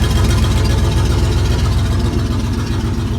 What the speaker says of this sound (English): Time for a test drive in Big Bob, just to make sure everything got buttoned up nice and smoothly in here.